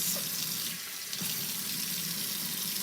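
Tap water runs steadily into a tub or sink while a dog named Rufus is bathed, a continuous close hiss and splash with no talk.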